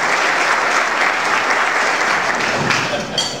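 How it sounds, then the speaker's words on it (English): Sustained round of applause from an audience at a political talk, dense and steady clapping that tapers slightly at the end. "I don't know whether that round of applause is because I'm gone from Congress"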